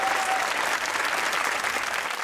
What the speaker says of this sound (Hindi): अब बजाओ छोटी ताली।